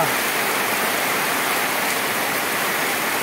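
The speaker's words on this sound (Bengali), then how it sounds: "এই যে বৃষ্টির সমানে, আরে কি শীতল বাতাস" Heavy rain pours down steadily outdoors, a dense, even wash of loud hiss with no breaks.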